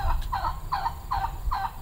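A turkey gobbles in four or five rapid, evenly spaced bursts, close and clear over a low steady rumble, with no voices.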